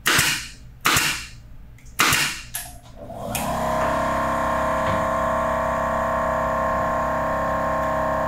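A pin nailer powered by a Milwaukee M18 FUEL air compressor fires three sharp, loud pops about a second apart. The compressor motor then kicks on and keeps up a steady, droning whir.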